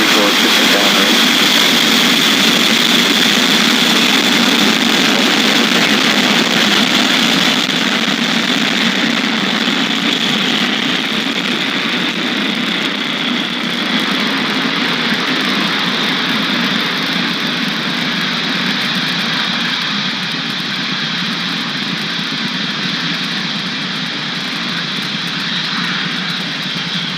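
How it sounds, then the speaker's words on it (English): A SpaceX Falcon 9 rocket lifts off on a Starlink mission with a loud, sustained broadband roar that holds steady and very slowly eases over nearly half a minute. "Liftoff. Vehicle is shifting downrange."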